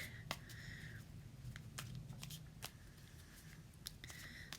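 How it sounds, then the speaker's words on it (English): Quiet, crisp riffling and snapping bursts of cards being shuffled, several quick flurries separated by brief pauses, close by. "I'm shuffling the deck."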